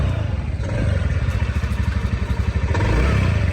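A TVS Ntorq scooter engine runs close by after its cam chain and adjuster were replaced, a steady pulsing putter with slight mechanical clatter and no talk.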